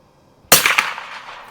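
A single loud H&R M12 rifle shot fired with Federal ammunition during group-size target shooting, a sharp close crack followed by a ringing, echoing tail that fades over about a second.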